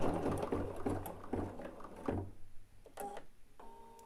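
An embroidery machine stitches over a placement line on fabric, a quick mechanical patter of needle strokes that stops partway through, followed by a few short electronic beeps.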